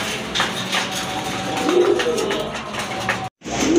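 Pigeons cooing close by, soft repeated low coos amid light rustling, with a brief drop-out near the end.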